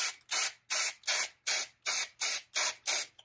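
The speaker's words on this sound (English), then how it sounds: "I'm gonna spray a little bit" An aerosol spray can hisses paint onto egg carton roses in nine short, even bursts, close and loud with brief pauses between them.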